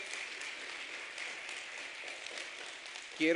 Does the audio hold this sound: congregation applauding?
yes